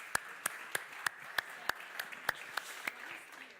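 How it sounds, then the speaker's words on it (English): Applause welcoming a speaker at a conference on European coal in transition: about a dozen faint, crisp handclaps at a slow, even pace, each clap distinct against a quiet room. "So please welcome her with an applause."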